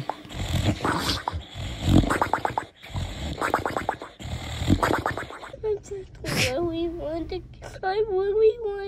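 A sleeping dog makes snuffling, grunting and whimpering noises, with a sharp sneeze-like snort partway through, while people talk over much of it and a high whining tone follows near the end.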